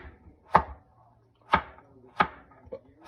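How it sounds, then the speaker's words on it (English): Knife chopping mirepoix vegetables for a spicy braised cauliflower dish, four crisp separate thuds on a cutting board at uneven intervals, close and clear in a quiet room. "Cut it down the center. And then just chop"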